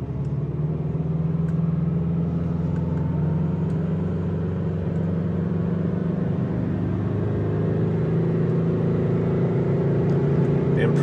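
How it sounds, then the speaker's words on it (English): A Subaru with a CVT accelerates hard on a test drive, its engine holding a steady droning hum with road rumble heard from inside the cabin, continuous and fairly loud throughout. "Pretty aggressive on the acceleration, because if the chain's going to slip, it's going to slip under more heavy acceleration than, say, normal acceleration."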